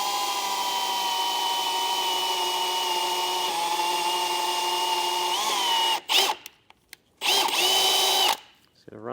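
A power drill pre-drilling aluminum whines steadily for several seconds, then stops and restarts in short bursts, with a faint voice in the background.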